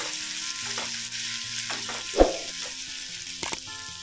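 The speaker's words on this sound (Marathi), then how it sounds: "थोडंसं परतून घेऊया आपण" Garlic, ginger and green chilli sizzle in a pan over a medium flame, a steady close frying hiss with a few stirring clinks and scrapes.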